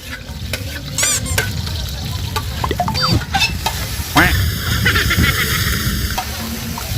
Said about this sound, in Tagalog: O karon atong ilunod ang ahos!